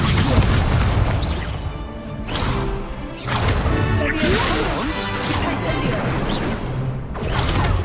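Repeated heavy blasts from the Confringo fire spell in the video game Hogwarts Legacy, several booming explosive impacts spaced a second or two apart, loud and close amid combat effects.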